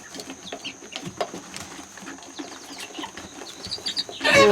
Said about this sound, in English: you probably hear a little squabbling in the background, because one thing that chickens like to do is establish their pecking order